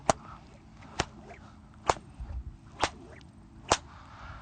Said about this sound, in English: To start, you're going to want to learn to do this: overhead, reverse overhead.